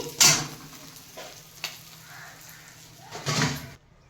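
Oil sizzles steadily as bhetki fish bones fry, with a couple of louder crackling bursts and a light scrape of stirring in between.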